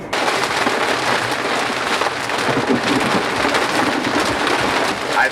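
Heavy rain from a thunderstorm pours steadily, with a dense broadband roar close by and low rumbling of thunder underneath throughout, no voices.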